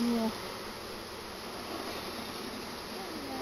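Honey bees hum in a steady, dense buzz while being installed into an empty hive, a continuous close drone with a brief voice at the very start.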